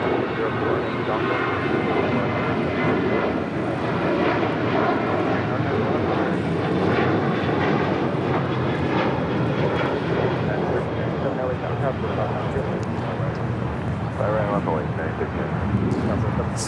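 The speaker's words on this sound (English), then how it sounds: "Latam Airlines, it's a 777-300ER." LATAM Airlines Boeing 777-300ER departing LAX, a loud, continuous jet engine roar with wavering tonal whine, under intermittent talking.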